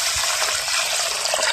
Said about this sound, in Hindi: इसमें डाल देते हैं पानी